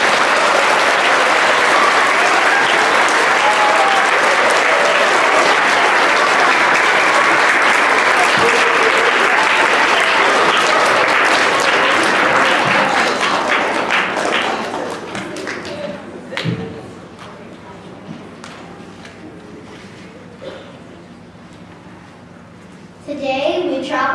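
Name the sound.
audience applause at school assembly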